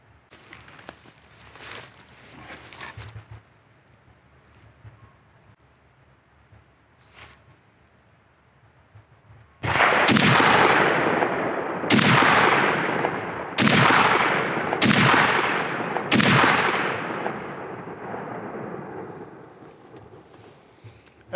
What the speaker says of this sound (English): It's a truly kind of magnificent rifle to shoot